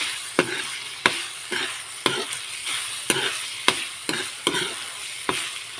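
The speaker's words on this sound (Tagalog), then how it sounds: "magisa na natin mabuti yan" Ground pork sizzles steadily in a hot pan while a spatula scrapes and stirs it about once a second. The stirring strokes are clear and regular over a constant frying hiss, with no talking.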